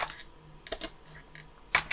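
Keys on a computer keyboard are tapped in short irregular clicks, a few isolated presses and quick pairs, close and fairly quiet with no voices.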